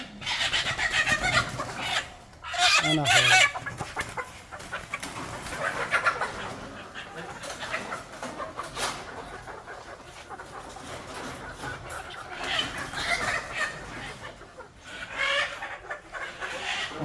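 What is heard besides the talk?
chickens being moved into a new chicken coop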